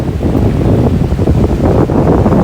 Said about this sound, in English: You hear the waves crashing.